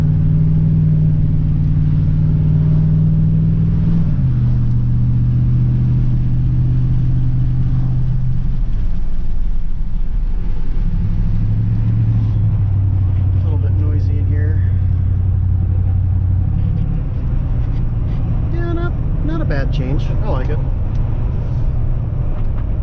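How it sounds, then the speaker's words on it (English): A truck engine fitted with a Black Widow 250 exhaust idles and rumbles steadily, its low drone shifting pitch several times as it revs, with people talking briefly over it. "It's got enough noise that it lets you know that it's a truck"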